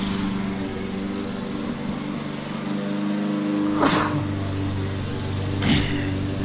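A push lawn mower drones steadily on wet grass, loud and near, with two brief surges as it works through the thick growth.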